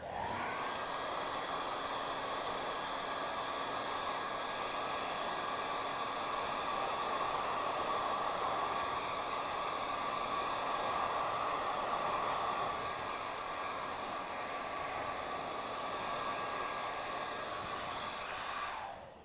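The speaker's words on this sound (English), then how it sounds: "you're going to use a blow dryer" Blow dryer with a directing nozzle attached, blowing hair in a steady, loud rushing whoosh with a faint motor whine that runs continuously, then cuts off at the end.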